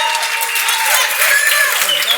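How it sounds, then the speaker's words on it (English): Bright, close audience applause at a conference on FinOps for digital platforms, a brief dense burst of clapping that holds steady throughout. "let's give a huge round of applause for Pedro and Dominika!"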